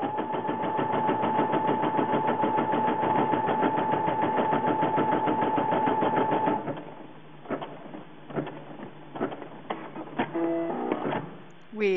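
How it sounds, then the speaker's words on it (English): An Innov-is NV990D embroidery machine stitching with white thread makes a fast, steady mechanical whirr for about six seconds. It then stops and gives way to quieter clicks and beeps. "I load in my white thread and I go ahead and begin my machine embroidery"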